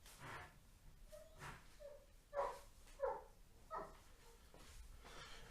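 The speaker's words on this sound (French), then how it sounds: "C'est mon chien qui aboie dans le jardin" A dog barks several times at a distance in a garden, short muffled yaps spaced about a second apart over a quiet background.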